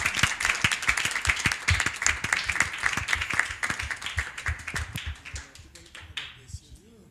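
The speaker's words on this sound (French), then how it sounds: "à la prochaine sous vos applaudissements" A small audience claps in scattered, distinct hand claps that thin out and fade toward the end, with voices heard in the room.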